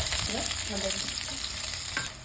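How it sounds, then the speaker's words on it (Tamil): Mustard seeds and onion frying in hot oil while being tempered for a snake gourd-style poriyal, a steady close sizzle with light stirring scrapes, no voices. "கடுகு போட்டுக்கலாம். எண்ணெய் வெங்காயம் போட்டுக்கலாம்."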